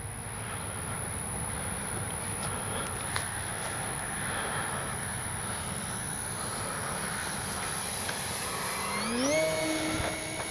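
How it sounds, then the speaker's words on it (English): Electric motor of a Durafly Excalibur V2 RC airplane making a low pass down a runway, a steady whine over wind noise that rises and sweeps upward in pitch near the end as it passes close by. "Let's bring a nice low pass right down the runway."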